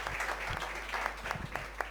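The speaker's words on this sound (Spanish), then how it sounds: "Un aplauso." A seated audience applauds at a Spanish-language journalism talk and book presentation, a faint, steady patter of many hands at a distance over a low hum.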